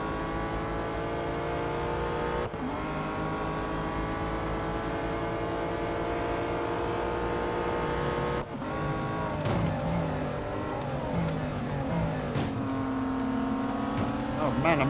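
Race cars roar around Daytona in the mobile game Real Racing 3, a continuous layered engine drone with gear shifts and rising revs as the pack is overtaken; a voice talks over the engines.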